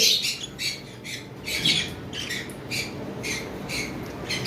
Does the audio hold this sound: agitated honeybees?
no